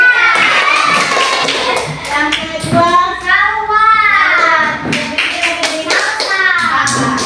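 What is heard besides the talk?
classroom children clapping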